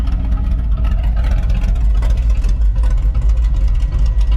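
A 1976 Chevy K10 truck engine idles close by with a steady, deep, lumpy rumble and no talking.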